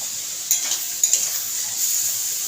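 Vegetables are sautéed in a pan in a home kitchen, a soft steady sizzle broken by a few sharp clinks of a utensil against the pan.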